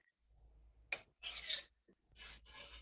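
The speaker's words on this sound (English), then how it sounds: "I'm gonna take a knife and I'm gonna cut it into 4." Knife blade cutting soft homemade gnocchi dough into four pieces on a board, giving several short, quiet scraping strokes separated by brief pauses.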